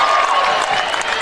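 Basketball crowd at a Class 3A high school game cheering and applauding after a basket, a short burst of dense clapping and hollering, loud and close, with no distinct talk.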